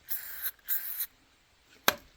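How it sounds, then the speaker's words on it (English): Cleaner sprayed onto vinyl flooring to lift permanent marker: two sharp hissing spray bursts close up, followed by a brief knock. "you spray the crap out of it."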